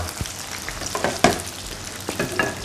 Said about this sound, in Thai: เร่งน้ำมันร้อนแล้วเราก็ลงเลยรอบสองของเรา